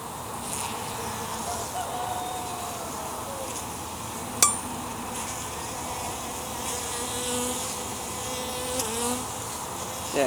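Honey bees buzzing around a hive during an inspection, a steady close drone with a single sharp clink partway through.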